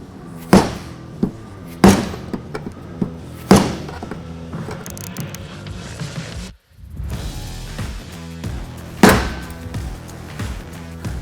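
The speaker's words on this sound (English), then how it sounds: "So we'll be hitting this counterclockwise." Repeated hammer blows knock the factory locking ring off a Mercedes Sprinter van's removed OEM fuel tank, striking it counterclockwise. Sharp metallic bangs land every second or two, loud and close, against a busy shop background.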